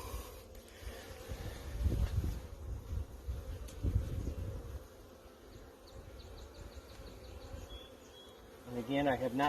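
Honey bees drone continuously around a hive in a Michigan apiary during spring build-up, a close, dense buzz with fluctuating intensity and a few sharper passes.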